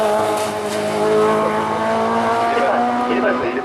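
A race car at a hill climb race in Hébecrevon: a loud, close high-pitched engine wail passing by, with tires squealing, while a commentator talks over it.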